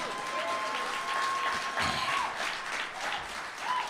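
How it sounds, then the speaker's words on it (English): An audience at a professional women's hockey franchise announcement in Seattle gives sustained applause, a dense, even roar of clapping with a faint tonal whine in the background. "Can I get an applause on that?"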